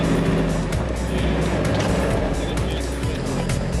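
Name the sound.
winch pulling back end of Nissan Patrol 4x4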